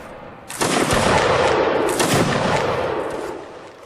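A loud ragged musket volley from a line of infantry in a Napoleonic Wars battle video game, erupting suddenly as a dense cluster of overlapping shots, then a second burst, before rolling off into a fading echo.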